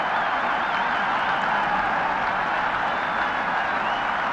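Cricket crowd at Lord's applauding a batsman at the end of an innings during the 1973 Benson & Hedges Cup final, a steady, fairly distant wash of clapping that holds evenly throughout.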